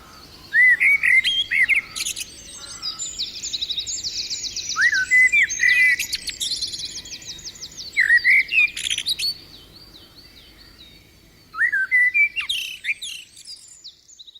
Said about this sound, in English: listen again to one of my favourite sounds, the song of a blackbird.